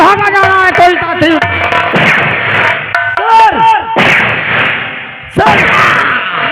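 A rapid series of loud, sharp gunshots cracks out in bursts, some echoing, with shouting voices mixed among the blasts.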